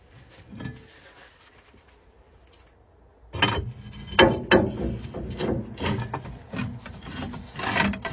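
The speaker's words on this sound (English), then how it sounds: "I'll just get a socket and a strong arm on it" A socket wrench cranks on a stuck bolt with a quick series of rough, rasping ratchet clicks and strained metal scraping, close and fairly loud, after a quieter lead-in of faint shuffling.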